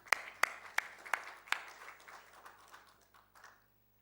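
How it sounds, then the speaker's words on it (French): A short burst of applause from a small audience with a few sharp, loud claps, fading out after a few seconds. "Et on peut les applaudir, mesdames et messieurs."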